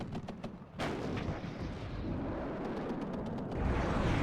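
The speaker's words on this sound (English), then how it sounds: "Explosion over there." Battlefield in the wargame WARNO: a dense barrage of explosions and gunfire, sharp cracks at the start and then a sustained rumbling roar of artillery and shots, loud and close, with no talk.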